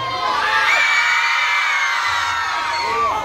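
Schoolchildren in a crowd at a school welcome gathering shout together on request, a loud sustained collective yell lasting about three seconds with cheering and whoops rising and falling.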